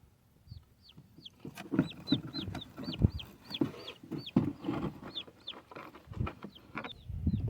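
A hen in a backyard coop clucks repeatedly as two-day-old chicks are put inside, with a steady run of short, moderately close clucks and faint rustling. Nobody talks.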